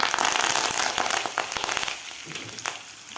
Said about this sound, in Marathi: व्यवस्थित एक मिनिटभर आपल्याला एक फ्राय करून घ्यायचे आहे मिरची आणि डाळ